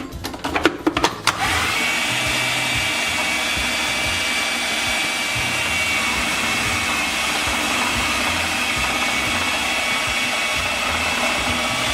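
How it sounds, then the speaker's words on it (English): Food processor blending a thick no-bake chocolate brownie mixture, a steady loud motor whir running continuously after a few brief clunks at the start, with no talking. "we'll make it a bit easier for the food processor"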